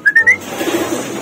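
Racing pigeons returning to their loft after a derby race: a few short, clear coos or whistles up close, followed by a soft rustling wash of background noise.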